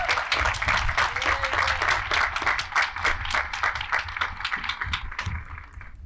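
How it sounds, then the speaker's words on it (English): A commencement audience claps in a dense, sustained round of applause that holds steady for several seconds, then begins to thin and fade near the end. "Let's give Dean Hicks another round of applause."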